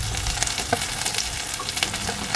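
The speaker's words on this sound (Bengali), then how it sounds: "পেঁয়াজটা একটু হালকা করে ভেজে নেব" Two large onions, sliced into long strips, fry in hot oil with a steady, close sizzle and small popping crackles throughout, with no talking.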